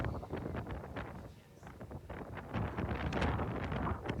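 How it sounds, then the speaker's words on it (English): Gusting wind outdoors buffets the microphone with a steady, rough roar that swells and dips, close and fairly loud throughout. "This wind."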